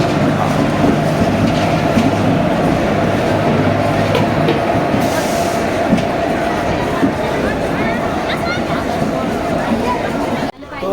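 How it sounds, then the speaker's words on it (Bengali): The Tamralipta Express to Digha stands in a busy Howrah station platform, its engine drone and carriage rumble steady and close under a crowd's chatter, with faint clatter and a brief hiss midway. "ট্রেন ঢুকে গেছে হচ্ছে আমাদের"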